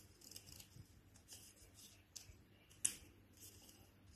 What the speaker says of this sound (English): We're going to get our scissors and we're going to cut along this line